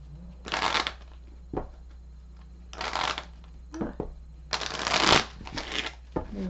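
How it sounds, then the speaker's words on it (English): A deck of tarot cards shuffled by hand close up, in several quick riffling bursts separated by short pauses and soft handling taps. "I'm going to shuffle on camera."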